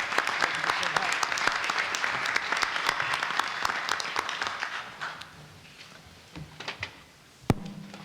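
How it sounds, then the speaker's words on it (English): Audience applause at a Georgia tax reform forum, a dense burst of clapping that thins out and fades after about five seconds, leaving a few scattered claps and small bumps before a final sharp knock near the end. "I ask our group to give you a hand of applause"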